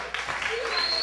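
A comedy club audience applauds during a stand-up set, a short burst of clapping and crowd noise that comes in abruptly and holds steady.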